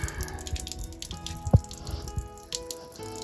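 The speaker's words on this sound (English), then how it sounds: "Let all the pink antifreeze drain out." Pink antifreeze drains from a cracked drain valve on an RV camper's water system, making a soft, irregular trickle with scattered drips and splashes, faint and close.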